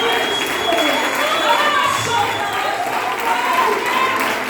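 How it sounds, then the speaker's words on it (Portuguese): A church congregation applauding during an evening worship service, a dense, continuous wash of clapping and crowd noise that is fairly loud, with voices audible over it. "Aplauda o nosso Deus, aplaude o Deus."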